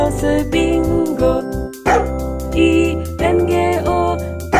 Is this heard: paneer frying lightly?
no